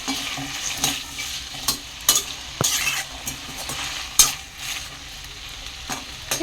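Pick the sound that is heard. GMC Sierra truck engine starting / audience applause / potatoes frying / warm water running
potatoes frying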